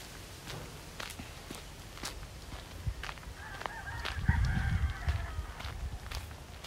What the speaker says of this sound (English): this is a farm, a rooster farm